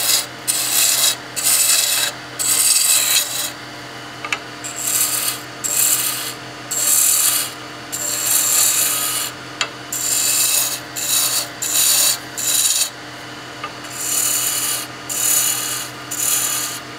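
A skew chisel planes wood on a spinning lathe while turning a cigar case, making bursts of loud scraping rasp, each a second or two long, separated by short pauses over a steady low motor hum.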